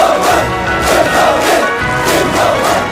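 A large crowd of North Korean military medical soldiers roars a battle cry outdoors, loud massed shouting in repeated surging waves.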